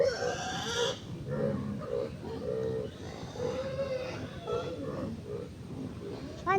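A pig grunts and oinks repeatedly, loud and close, with low snorting bursts coming in an uneven rhythm over a noisy farmyard background.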